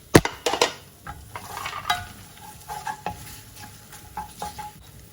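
A spoon stirs masala roast potatoes with grated garlic in a pan off the heat, with a sharp clatter at the start, then scraping strokes and light tapping against the pan over a soft sizzle.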